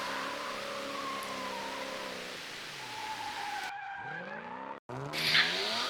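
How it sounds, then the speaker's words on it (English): Drifting car at a grassroots drift event at Zoyland, engine revving hard with long tire squeals and skidding, loud and close, pitch sweeping up and down as the car slides, with a brief cut near the end. "the biggest thing with drifting is the noise of the cars"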